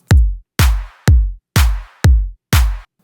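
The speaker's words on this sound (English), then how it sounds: "I added another clap to layer the clap because I felt it was weak." Six evenly spaced layered clap hits, each with a deep thump beneath a broad noisy burst and short reverb tail, punch out loud and dry on their own in a DJ remix.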